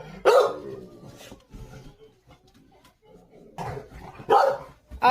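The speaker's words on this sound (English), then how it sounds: "Oh, stop barking at me." Pet dog in a house during a severe Michigan blizzard with heavy snow, giving several sharp, close barks in bursts with pauses between them, while a person nearby talks.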